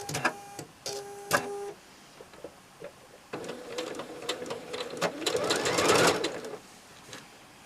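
Domestic sewing machine stitching quilt block pieces, with short whirring bursts followed by a longer steady run of rapid stitching, close up, under faint occasional talk.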